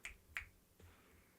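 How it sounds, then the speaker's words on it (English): Two crisp finger snaps close to the mic in quick succession, then a fainter third, in a quiet room. "I like snapping my fingers at people."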